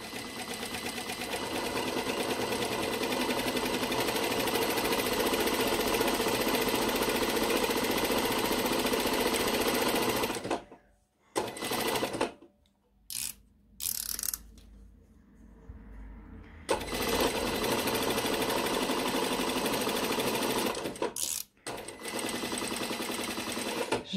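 A sewing machine stitching fabric for a pair of shorts runs in a fast, steady mechanical rattle for about ten seconds, pauses with a few short bursts and handling noises, then resumes its continuous chatter to the end.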